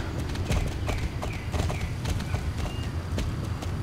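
Warmblood horse hooves in the video game Star Stable, a steady rhythmic clip-clop of trotting or cantering steps, close and clear with a faint game background beneath.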